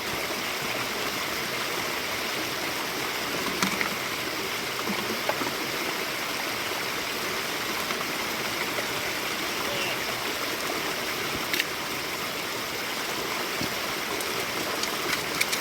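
A river flowing steadily at a gold-mining spot, a continuous broadband rush of moving water that stays even and fairly close throughout, with no voices.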